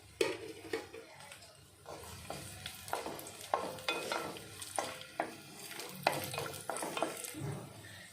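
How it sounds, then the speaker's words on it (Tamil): Cashews and raisins fry in hot ghee in a pan, with a steady close sizzle broken by rhythmic scraping stirs every half second or so, and no talking. "இப்போ முந்திரி திராட்சையை நம்ம வறுத்து எடுத்துக்கலாம்."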